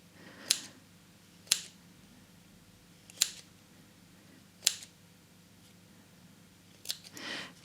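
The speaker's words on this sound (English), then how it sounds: "what we can do is just trim that to length and then cut through these loops." Scissors snipping through the yarn loops of a mini woven rug: five crisp, separate cuts at uneven intervals, close and clear against a quiet room, ending in a soft rustle.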